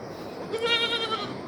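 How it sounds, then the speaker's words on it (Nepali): A young goat kid gives one short, wavering bleat close by on a village farm, heard over faint background noise. "यतातिर बाख्राको पाठाहरू छन्"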